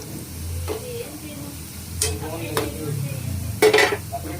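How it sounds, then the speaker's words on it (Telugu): Sliced onions fry in a pan for a prawn and gongura curry, a steady soft sizzle under several sharp scraping stirs near the mic, with one louder clatter near the end. "ఉల్లిపాయలు వేగిపోయినాయండి"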